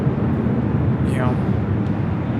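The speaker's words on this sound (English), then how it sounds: "This takeoff is Southwest Airlines 3679 taking off to Houston Hobby on the 737-700." Southwest Airlines Boeing 737-700 taking off from LAX, a loud, steady roar of jet engines with a brief rising tone partway through, heard alone without talk.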